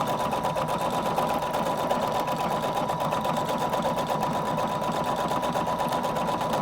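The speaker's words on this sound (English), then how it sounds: "I'm just going to press start stop to have it stitch out my pattern that my program that I made" A Husqvarna Viking Designer Brilliance 80 sewing machine stitches out a programmed embroidery pattern, running at a steady, rapid mechanical whir with even needle clatter throughout, loud and close with no talking.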